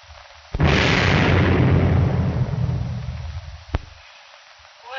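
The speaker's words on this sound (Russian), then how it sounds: "Такие сильные выстрелы, что я даже не могу догадаться, где они могут быть." A heavy explosion booms suddenly and rumbles for a few seconds before fading, followed by a single sharp crack of a gunshot.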